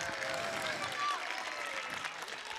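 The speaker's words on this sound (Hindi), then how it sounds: "इतनी जोर से तालियां मारो कि पूरे तांडूर में उसकी आवाज गूंज उठे" Crowd applause at a school silver jubilee celebration, a dense continuous wash of clapping heard at a distance, fairly faint and steady, with voices mixed in.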